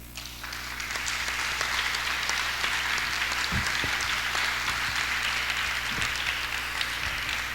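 An audience applauds at a book presentation, a dense, steady round of clapping from a sizable crowd in a hall, continuing evenly for several seconds.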